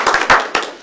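A few sparse, uneven hand claps from a small audience at a journalism forum, three soft bursts within a second in a quiet room.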